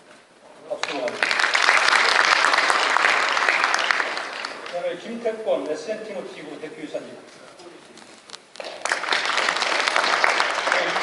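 An audience at a formal event breaks into loud applause that swells, fades under a voice announcing names over a microphone, then rises again in a full burst of clapping.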